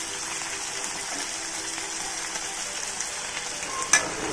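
Vegetables and their water tip into frying masala for a hotel-style vegetable korma, giving a steady sizzle and bubbling hiss with a brief clatter near the end and no talking.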